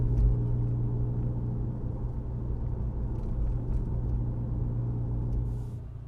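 A car fitted with a Baun Performance exhaust cruises at 35 mph in fourth gear just under 2,000 RPM, giving a steady, low droning exhaust rumble with a constant hum throughout.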